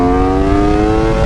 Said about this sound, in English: it sounds like a proper GP bike